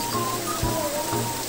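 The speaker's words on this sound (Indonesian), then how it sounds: "hujannya deras banget" Heavy rain pours as a steady, dense hiss close by, with a few dull thumps of drops on a surface and no talking.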